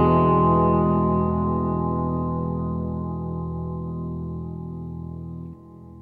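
Guitar reverb tail ringing out through an effects chain, slowly fading as a sustained harmonic wash, then chopped off abruptly instead of decaying naturally; moderately loud, no talking.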